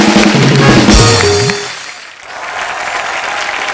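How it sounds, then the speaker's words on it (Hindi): An audience on the Kapil Sharma Show applauds two children; a brief musical sting fades out, then a loud wash of studio clapping follows and carries on to the end. "ये दोनों बच्चों के लिए जोरदार तालियां हो जाएं एक बार।"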